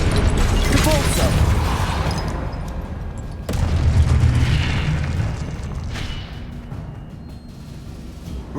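A Depulso force spell goes off as a loud booming blast in Hogwarts Legacy combat. A second heavy impact follows partway through, over dense, continuous game noise.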